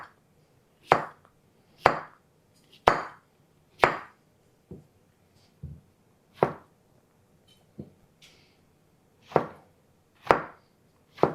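A knife cuts squash into slices just under half an inch thick on a cutting board, about a dozen crisp, close chops at an uneven, unhurried pace with quiet pauses between them.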